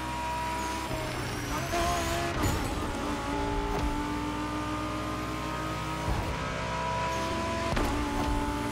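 Race car in The Crew Motorfest, a racing video game set in Hawaii, droning loudly at high revs with shifting engine pitch and occasional tire squeal, sustained throughout.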